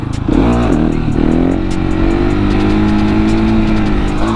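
Supermoto motorcycle engine revving hard on a wheelie attempt, loud and close, the pitch rising and dipping with choppy throttle blips before settling into a sustained high rev.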